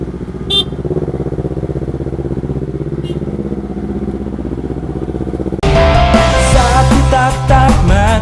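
A motorcycle fitted with a racing exhaust idles and burbles in a heavy traffic jam for several seconds, loud and near, then is abruptly cut off by music.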